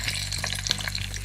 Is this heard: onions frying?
yes